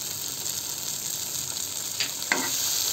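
A tomato and red chili mixture sautéing in a pan gives a steady, soft sizzle, with a couple of brief stirring scrapes near the end.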